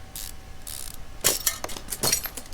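A ratchet clicks in rapid bursts as car bolts are tightened in the video game Car Mechanic Simulator 2015, with short metallic clinks and ratcheting runs, fairly faint and without talk.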